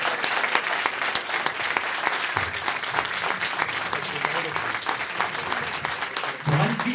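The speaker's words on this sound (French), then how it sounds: "J'aimerais vraiment de lourds applaudissements" Sustained applause from a convention audience honouring the event's organisers, steady dense clapping throughout with a lower voice briefly rising near the end.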